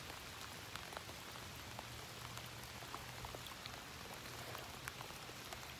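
Steady rain falls during a wood duck hunt outdoors, a soft continuous patter of drops on surfaces with scattered louder individual drips, faint and even throughout with no talking.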